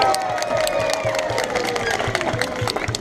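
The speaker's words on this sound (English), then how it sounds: "give him a cheer to say well done, you did good" An outdoor audience at a West Midlands safari park cheers and claps after an animal demonstration, a moderate crowd of steady applause and scattered whoops, fairly close and continuous.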